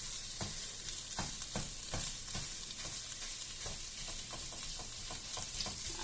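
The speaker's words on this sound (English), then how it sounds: "Get your protein, chuck it in a pan, cook it all the way through. I'm gonna start breaking this up now." Ground pork fries in a pan with a constant sizzle, broken by a rapid series of sharp scraping taps as a utensil chops and breaks up the meat.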